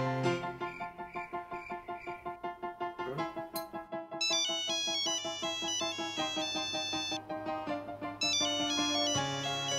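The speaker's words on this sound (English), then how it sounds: "Someone should answer the stupid phone." A phone rings with a melodic electronic ringtone, repeating bright tonal phrases that play steadily and fairly clearly, with no one talking over it.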